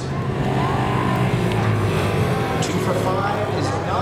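A Sport 4 race car on its victory lap at Seekonk Speedway after the feature, its engine a steady, continuous drone throughout, with a murmur of voices underneath.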